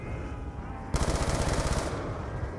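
An LSAT machine gun fires in Call of Duty Zombies, a loud rapid burst of about a second over steady game background noise.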